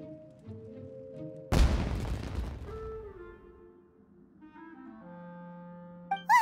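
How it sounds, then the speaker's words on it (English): Fireworks bursting in an animated scene, heard as one loud, sudden broadband blast that decays over about a second into a lingering rumble, set among music tones and other soundtrack elements. "Was that an explosion? It sounded like fireworks."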